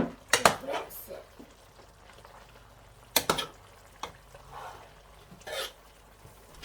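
A child stirring vegetable soup in a pot: a few sharp clanks and scrapes of a utensil against the pot, in separated bursts with quieter gaps between, fairly close and moderately loud.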